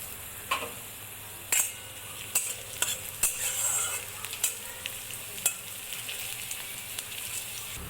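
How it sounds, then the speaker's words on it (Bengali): Sliced onions and green chillies fry with cumin and nigella seeds in an oily pan, and chopped garlic goes in. A steady sizzle runs throughout, broken by sharp clicks and scrapes of a spatula stirring against the pan. "পেঁয়াজ হালকা ভাজা হয়ে গেছে এর মধ্যে দিয়ে দেবো রসুন কুচি"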